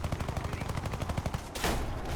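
Rapid machine gun fire from an F4U-4B Corsair in a head-on pass during a dogfight in a flight combat game, a steady rattling burst lasting about a second and a half before giving way to a louder rushing roar.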